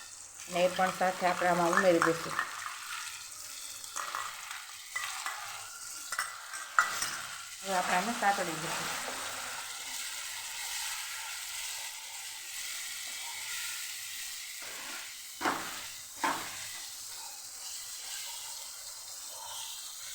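Masala mixed with yogurt sautéed in a pan for Kathiyawadi besan bhurji, a little water added, with spoon scrapes and stirring over a steady sizzle that fades as the water cooks off; brief bursts of voice early on.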